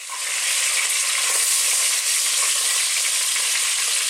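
Chicken pieces sear gently in a pan for a chicken and leek stew, giving a steady, even hiss of frying that holds close and constant without break.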